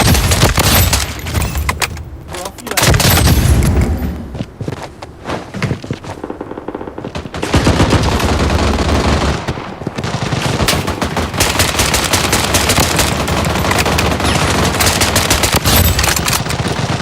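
Rapid automatic gunfire in the mobile shooter Bloodstrike, loud and nearly continuous bursts with brief gaps, dense and close throughout.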